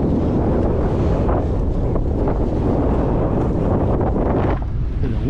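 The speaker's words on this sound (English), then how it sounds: "And the wind." Strong wind buffets the microphone outdoors while a fishing net is checked near open water at Pigniq, a loud, steady rush with gusting swells and no talk.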